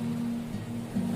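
Ocean waves on the New Zealand coast make a steady, close surf wash with a low rumble, continuous throughout with no voices.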